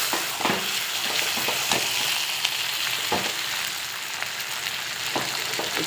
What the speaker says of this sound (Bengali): চিকেনটা কষানো হলো।